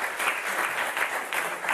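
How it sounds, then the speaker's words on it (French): Steady applause from a TV game show studio audience for the contestants of the French word game Motus, dense and continuous clapping throughout. "on va vous applaudir très fort quand même"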